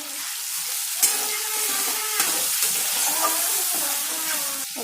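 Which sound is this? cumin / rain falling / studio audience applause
cumin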